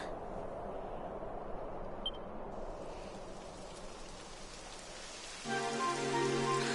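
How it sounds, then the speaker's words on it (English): Steady rain hisses evenly in the video game Dragon Quest XI, joined near the end by a sustained tonal hum that swells in loudness. "It would have to go and start raining, wouldn't it?"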